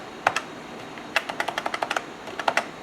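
The keyboard of a Dell OmniPlex 466 computer clicks as keys, including the tab key, are pressed: two clicks, then a quick run of about ten, then a few more, close and distinct in a quiet room.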